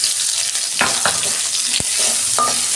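Sliced onion fries in oil with bay leaf, cumin and ginger-garlic paste in a pan for dal, a close, loud continuous sizzle broken by a few sharp stirring scrapes and clicks.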